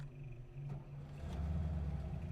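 A video game car engine turns over and settles into a low steady hum, the rumble stepping up partway through, with no voices.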